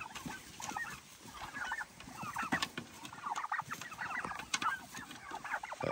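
A flock of turkeys being driven into a chicken tractor for the night, gobbling and chattering in dense overlapping bursts at close range, with steady ambient noise beneath and no talking.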